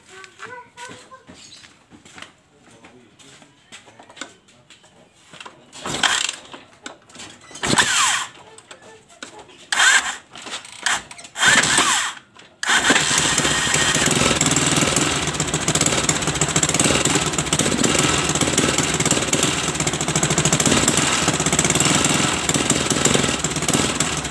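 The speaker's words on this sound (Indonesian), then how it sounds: "Kita hidupkan mesinnya dulu." A Viar three-wheeler motorcycle engine is cranked with a few short bursts and then catches, running loud and steady with a dense mechanical clatter in a workshop.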